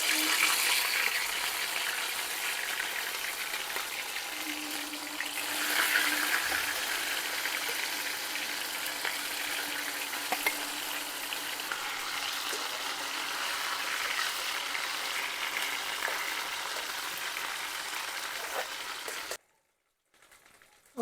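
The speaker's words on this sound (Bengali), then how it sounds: "কড়াই একটু বেশি পরিমাণে তেল দিয়ে দিচ্ছি, দিয়ে এগুলোকে ভাজবো" Prawn muitha dumplings frying in plenty of hot oil in a kadai: a steady, hissing sizzle runs throughout, then cuts off to near silence at the end.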